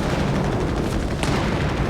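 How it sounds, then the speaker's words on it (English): Smoke canisters fired in Company of Heroes 3, a dense, rumbling barrage of muffled booms and thuds that fills the moment with continuous low battlefield noise. "Fire smoke canisters to cover our advance."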